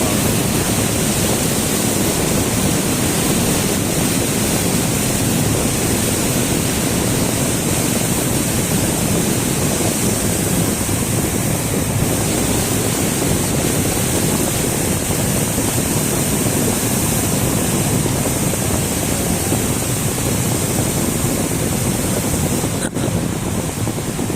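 Flood water released from the Chashma Barrage rushes down the Indus River in a loud, unbroken roar with some wind buffeting. No voices break through the steady torrent.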